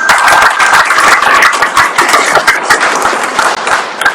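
Loud, dense clapping from a crowd at a public event for General Guillermo Eleazar in Cotabato City, sustained and close with sharp individual claps standing out, fading slightly toward the end.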